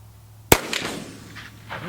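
A single sharp rifle shot from a Winchester/Miroku 1885 High Wall at a long-range target, a loud close crack with a brief rumbling tail fading over the next second and a half.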